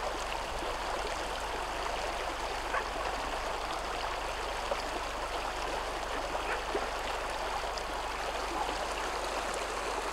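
Stream water flowing steadily at a fishing spot, a constant soft hiss and gurgle that stays even throughout, fairly faint with no voices.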